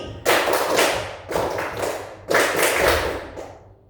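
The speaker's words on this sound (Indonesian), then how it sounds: "Tepuk 3 kali langsung bersama-sama mantap." A group claps three times in unison, three loud broadband bursts of many hands at a school gathering, evenly spaced about a second apart with no talk.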